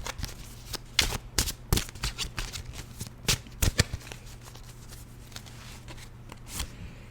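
A tarot deck is shuffled and cards are drawn, producing a close series of crisp, snapping riffles and flicks at an irregular pace, with quieter handling between them.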